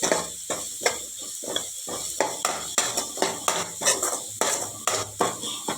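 Onion frying in a pan as curry leaves are dropped in, with a steady hiss under repeated scraping and clinking stirs of a utensil against the pan, close and fairly loud.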